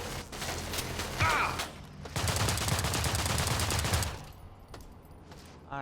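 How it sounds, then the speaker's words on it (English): Rapid assault rifle fire in the System Shock game comes in a short opening burst, then a longer sustained volley, before dropping to faint mechanical clicks and rattles. "Alright, assault rifle."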